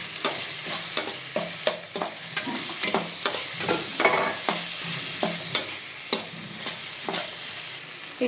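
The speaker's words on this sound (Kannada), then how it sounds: "ಇವಾಗ ಇದ್ರ ಜೊತೆಗೆ ಟೊಮೆಟೊ ಆ್ಯಡ್ ಮಾಡ್ತಾಯಿದ್ದೀನಿ. ಇದಿಷ್ಟನ್ನು ಸ್ವಲ್ಪ ಫ್ರೈ ಮಾಡಬೇಕು." Tomato frying and being stirred in a pan for chicken sukka: a steady sizzle under a rapid run of scraping stir strokes, close and fairly loud, with no voices.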